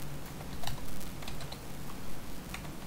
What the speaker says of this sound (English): Type in my password for that.